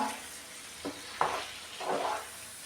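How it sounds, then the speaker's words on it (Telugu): Tomatoes fry in a pan for a chutney and curry, with a quiet steady sizzle and three brief bursts of stirring scrapes spread across the short stretch, all fairly soft and without talk. "బాగా ఫ్రై చేసుకోవాలి టమోటాలు అయితే ఫ్రై అయినాయి"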